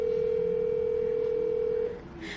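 A steady telephone dial tone hums loud and unbroken during a call, then cuts off abruptly near the end, leaving quieter room noise and faint background sound.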